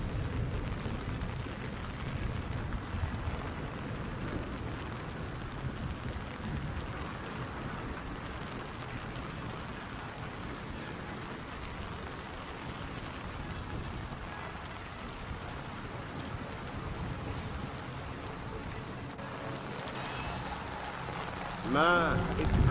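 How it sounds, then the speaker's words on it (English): Steady heavy rainfall pours down in a lighthouse setting in Splinter Cell: Chaos Theory, a constant dense hiss of drops with low rumbling underneath, and a brief voice and sharper sounds break in near the end. "it's really raining"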